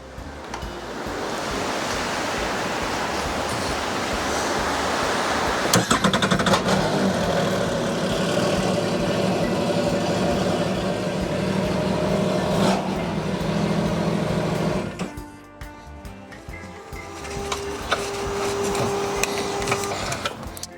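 A 2023 Yamaha Superjet TR-1 jet ski engine starts and idles steadily at close range under gusty wind, its hum dipping briefly near the end before picking back up.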